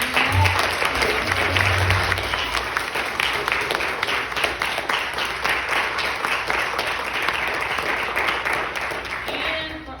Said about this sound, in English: Can we just give another round of applause to the youth?